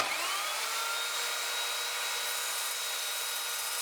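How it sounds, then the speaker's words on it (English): An Evolution Fury 3-S sliding mitre saw cuts through steel rebar as one continuous, loud, high-pitched grinding whine with a faint rising tone at the start, running steadily for a few seconds with no voices. "Finally, let's cut some rebar."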